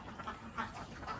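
Laying ducks give several faint, short quacks at irregular intervals over a quiet background hum.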